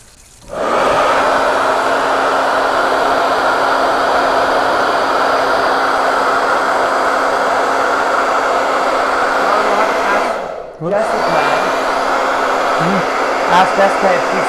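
A blow dryer drying chalk paste on a craft board roars steadily up close for about ten seconds, cuts out briefly, then starts again. Its loud, even whoosh fills the clip.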